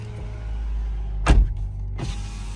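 Power windows on a Dacia Duster whir as they are opened from inside the car, two short motor runs close by against a low idling hum, with no talking.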